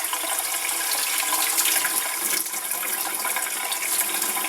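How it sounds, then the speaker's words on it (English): Strong tap water rushing steadily into a kitchen sink at high pressure while raw chicken breast is prepared, a loud continuous broadband splash with no pauses. "A little more water pressure always helps."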